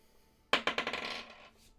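Story dice tossed onto a hard surface during a storytelling game, a sharp first impact followed by a quick series of rattling bounces that settle and fade out within about a second, close and alone.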